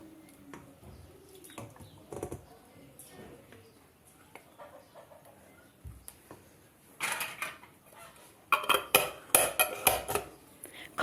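Glass jars of menemen for winter storage are filled in a hurry, then capped and turned upside down, with quiet handling noises early and a quick run of sharp glassy clinks and lid clatter toward the end.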